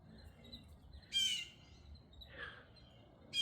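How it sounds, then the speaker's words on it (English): Small birds chirp in the trees with crows nearby, two loud bright call bursts and a softer one in between over a faint outdoor background. "those crows, they are trying to mess with my little birdies"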